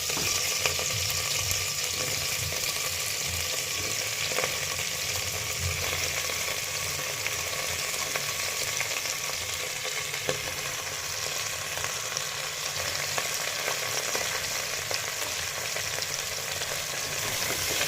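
Vegetables for pav bhaji frying and being stirred, a dense, continuous sizzle heard close and steady for the whole stretch with no voices.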